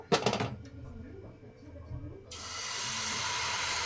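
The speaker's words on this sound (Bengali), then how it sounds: "এবার যে ব্যাটারটা বানিয়েছিলাম, সেই ব্যাটারটা আমি ঢেলে দেব" Thin dosa batter hits a hot pan greased with a little oil, breaking into a loud, steady sizzling hiss that swells and holds after a few clanks and soft kitchen sounds.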